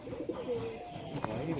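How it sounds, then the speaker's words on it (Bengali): Pigeons coo softly amid a low-flyer pigeon tournament release in Nabadwip, a continuous murmur of birds with faint voices in the background. "পায়রাগুলো ছাড়ছে এখন।"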